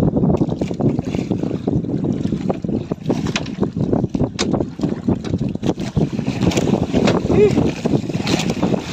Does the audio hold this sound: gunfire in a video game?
no